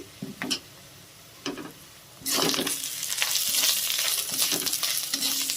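Turmeric and red chili powder fry with cabbage in a pan. A few light scrapes and taps come first, then a loud, steady sizzle takes over with ongoing stirring.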